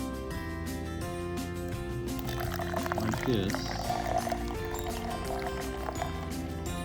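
Widget-charged Guinness beer is poured slowly from its can into a cup, a steady glugging, splashing flow running for several seconds over background music, with someone speaking briefly.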